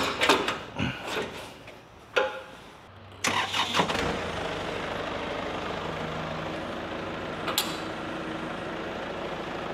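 A Jeep engine cranks with a few sharp bursts, then catches and settles into a steady, close idle that runs to the end.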